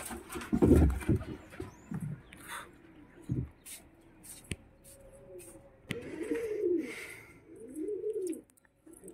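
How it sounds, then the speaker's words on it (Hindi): Soft repeated cooing of a pigeon feeding its chick, close by, with low rustling and scattered small knocks and clicks between the calls. "देखो अंदर एक बच्चे को खाना खिला रही कबूतर"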